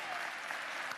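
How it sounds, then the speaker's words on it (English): Town hall audience applause, a dense continuous wash of clapping that holds steady and fairly quiet throughout a brief moment. "Let's give her another round of applause."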